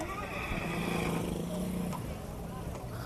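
A horse whinnies nearby at a horse fair and market in Sri Muktsar Sahib, Punjab, over outdoor background noise, with people's voices faintly talking around it.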